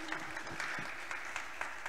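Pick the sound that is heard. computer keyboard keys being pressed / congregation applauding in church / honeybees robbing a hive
congregation applauding in church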